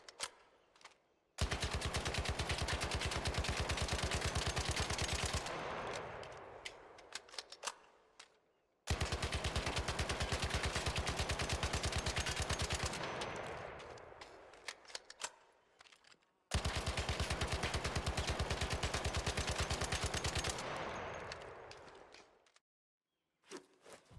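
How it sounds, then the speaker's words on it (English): Tempest rifle with no attachments firing in ARC Raiders, three long sustained automatic bursts of rapid, loud gunfire, each separated by a short pause. "For baseline we'll do one without attachments"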